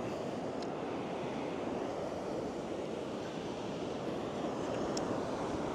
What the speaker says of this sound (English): Yeah, this wind, y'all.